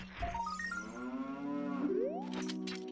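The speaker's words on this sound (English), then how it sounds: "There's a cow." A cow in a Zelda game gives a loud, drawn-out moo with a rising, bouncy tone, followed by a short chime. No one speaks.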